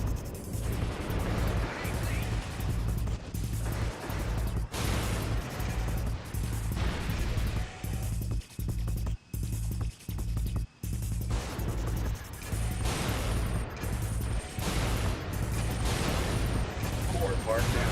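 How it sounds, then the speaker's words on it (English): Repeated loud explosions and heavy blasts from the PlayStation 2 mech game Armored Core: Last Raven boom over a constant low rumble of engines and combat, with sharp impacts punctuating the mix throughout. "so those explosions damage me too?"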